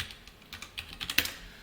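Quick, light keystrokes on a computer keyboard tap out a short burst of irregular clicks at close range, fairly quiet, with no voice over them.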